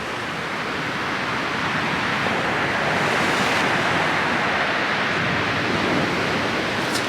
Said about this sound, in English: there's a pretty big swell coming through now